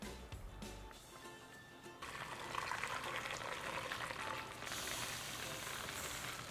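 Chicken soup (Korean dak gomtang) bubbling in a pot with bones and water, a steady, fairly loud broadband boil that swells partway through and continues evenly, with faint kitchen background.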